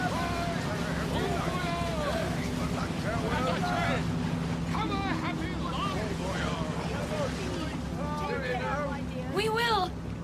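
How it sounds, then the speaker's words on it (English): Boat engines running give a steady low mechanical drone throughout, with people talking over it and some wind noise. "Listen, the engines are starting again."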